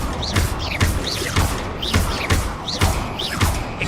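Confringo spell blasts in Hogwarts Legacy land as a series of repeated heavy thumps, about seven or eight in quick succession, each with a brief whooshing rise, loud and close.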